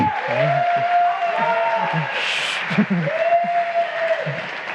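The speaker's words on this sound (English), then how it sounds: "give a really big applause for Alt4F and the IPv6 talk" Audience at a tech conference applauds a speaker before an IPv6 talk, a sustained bed of crowd clapping with a voice speaking over it and an electronic tone sounding twice.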